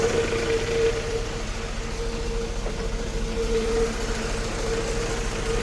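The engine of a 1966 Jeep CJ5, suspected of a water pump fault, runs in a steady, even idle hum at moderate distance with no talking.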